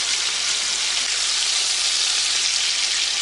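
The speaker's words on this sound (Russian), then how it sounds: "Мы это дело обжариваем." Food fries in a pan on a village kitchen stove, browning to a golden crust on both sides; a steady, loud, even sizzle runs throughout with no talking.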